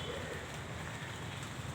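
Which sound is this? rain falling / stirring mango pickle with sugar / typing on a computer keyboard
rain falling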